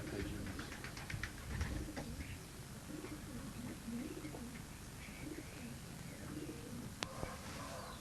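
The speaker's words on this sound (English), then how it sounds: "Tremendous pair of pigeons." Racing pigeons coo softly in a loft, several low, throaty calls rising and falling in a loose rhythm, with faint chirps and rustles around them and a sharp click near the end.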